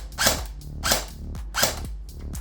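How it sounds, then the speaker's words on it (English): Battery-powered gun dry firing, giving three sharp mechanical snaps spaced roughly evenly, close and distinct with quiet gaps between. "We'll get a battery plugged in and just dry fire it and see what we can hear."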